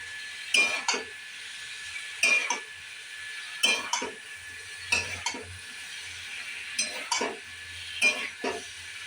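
Jackfruit and prawn curry being sautéed in a pan, with a soft sizzle under periodic scraping and clinking of a spoon against the pan, about six stirring strokes in a steady rhythm.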